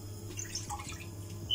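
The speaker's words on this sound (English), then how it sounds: "So in the pot, I'll put 1 cup of water." One cup of water poured into a cooking pot, a soft, steady trickle and splashing with faint drips, heard alone at close range.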